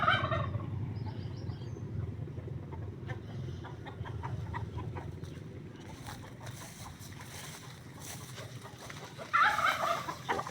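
A turkey gobbles in loud bursts, once at the start and again near the end, over a steady low outdoor rumble with scattered clucks and rustles between calls.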